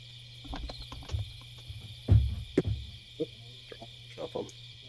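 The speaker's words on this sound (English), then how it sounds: "Like the crickets and sound in the background." Crickets chirp steadily outdoors at night in a continuous high background trill, under intermittent low thumps and handling noises close to the microphone.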